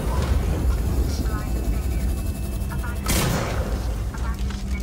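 Repeated bolt-gun shots in Alien: Isolation, a sharp burst near the three-second mark among steady game noise and rumble, with a voice talking over the action.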